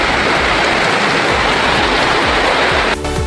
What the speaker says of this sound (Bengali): কিভাবে ঝেঁপে বৃষ্টি হচ্ছে, প্রচণ্ড বৃষ্টি হচ্ছে